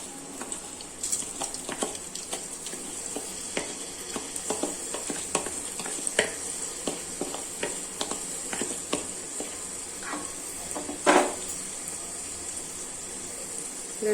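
Washed Govindabhog rice stirred in a pot for khichdi, a soft scraping and patter of grains against metal with scattered spoon clicks and a light sizzle underneath, close and steady throughout.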